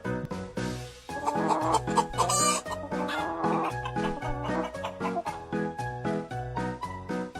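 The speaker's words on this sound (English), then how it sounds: "Chicken." A chicken clucks in short bursts over a bouncy, tuneful backing of music, with the clucks mixed in among the steady rhythmic notes.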